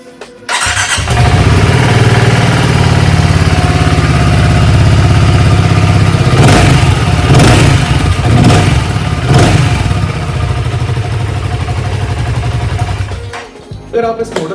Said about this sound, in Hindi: हमारी बहुत सारी जनता ऐसी है जो कि इसके एग्जॉस्ट की साउंड सुनना चाहती होगी